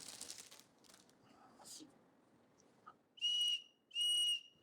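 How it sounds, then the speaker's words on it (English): Two short, shrill blasts from a paracord survival bracelet whistle sound close by, following faint rustling and handling noises. "You get this whistle, so you can call your friends"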